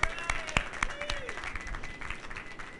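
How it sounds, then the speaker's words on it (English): Cinema audience clapping after a film screening, a modest scattered round of applause with distinct sharp claps near the start that thins out, over faint background voices. "give him a round of applause, everyone"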